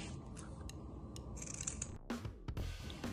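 Scissors snip loose threads from a beaded tassel on a home decor garland, giving a few short, quiet cuts against a faint background hush.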